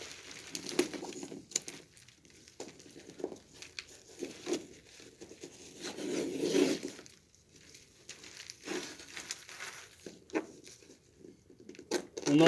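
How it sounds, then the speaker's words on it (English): Adhesive tape being wrapped around and torn onto a cardboard leg splint, heard as soft, irregular crinkling, tearing and patting noises at close range, fairly quiet with brief pauses between bursts. "You'll notice that I'm taping directly to tape"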